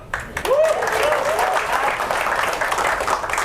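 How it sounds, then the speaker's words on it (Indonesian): A stand-up comedy audience breaks into applause, clapping loud and sustained for about three seconds, with a brief vocal whoop near the start. "Boleh tepuk tangan?"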